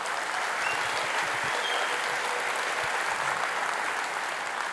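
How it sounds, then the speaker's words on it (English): An audience at a talk breaks into steady, sustained applause, a dense wash of many hands clapping evenly for the full length at moderate loudness. "So a round of applause for the farmers."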